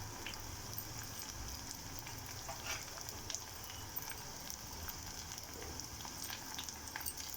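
Bitter gourd and onion frying in oil make a faint, even crackle and hiss that runs steadily throughout, with nothing else heard.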